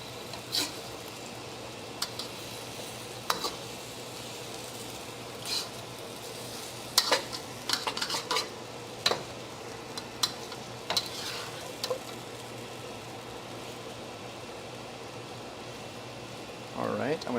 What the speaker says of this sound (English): Try to stir it up so we can get a little bit coated in sauce.